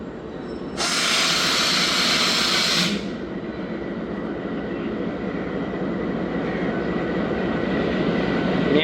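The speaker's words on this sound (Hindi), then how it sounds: "ज़िक्रिया एक्सप्रेस इंटर हो रही है रोडी जंक्शन। और आज GU20 लगा हुआ है जनाब ज़िक्रिया एक्सप्रेस को" The Zakariya Express, hauled by a GU20 diesel locomotive numbered 4567, rolls into Rohri Junction with a steady low rumble. A loud hissing burst lasts about two seconds near the start, then the rolling noise continues evenly throughout.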